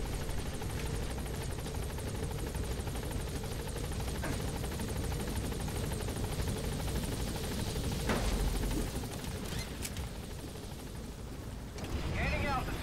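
Helicopter in the stealth-action video game Metal Gear Solid V: The Phantom Pain, a steady rotor drone that fills the whole stretch at even loudness, mixed with game wind and ambience, with a short shift in the final second.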